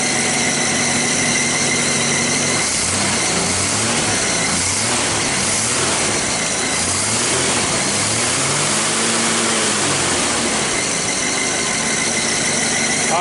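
A straight-six engine with a rebuilt carburetor runs steadily for the whole stretch, a loud, continuous idle with a wavering rumble and a faint mechanical whine, close up and with no talking.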